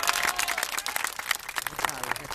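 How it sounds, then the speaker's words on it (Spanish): An audience at a community gathering in San Jorge applauds steadily for a couple of seconds, dense clapping filling the room with voices mixed faintly underneath. "Vamos a brindarles un fuerte aplauso a todos ellos."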